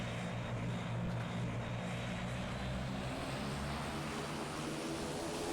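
Airplane taking off in the Roblox flight game PTFS, a loud, steady, dense engine roar with a low propeller drone that holds constant throughout, no voices over it.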